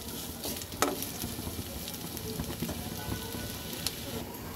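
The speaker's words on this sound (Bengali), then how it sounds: "পেঁয়াজটা একটু ভাজা হোক, কারণ পেঁয়াজটা একটু নরম না হলে সেটা কিন্তু খেতে ভালো লাগবে না। একটু তেলের সাথে একটু ভাজা হোক।" Onions frying in oil give a steady close sizzle with scattered crackles and a few sharp stirring clicks throughout, no voices present.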